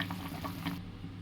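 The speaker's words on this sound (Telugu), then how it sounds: "చూడండి పులుసు మరుగుతుంది." A pot of fish curry (pulusu) simmers with soft, irregular bubbling and light sizzle for about a second before it quietens, with no voices.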